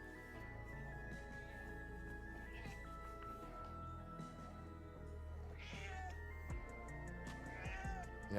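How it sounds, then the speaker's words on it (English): Cat meowing in the video game Visions of Mana, a couple of brief meows set against steady game music, soft and in the background. "Come here, cat."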